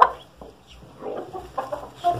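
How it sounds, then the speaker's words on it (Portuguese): Chickens cluck softly on a rural farm around newly hatched chicks, a few short scattered calls close by, with quiet gaps between them and no talking. "deixa eu ver só quantos pintinhos nasceu"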